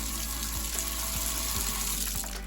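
Water from a gravity-fed off-grid supply pours steadily into a tub, a close, constant rushing splash with a few faint knocks, heard alone without talk.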